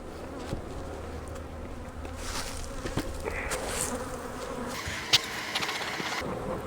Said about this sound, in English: I think maybe most of the bees are up in the top.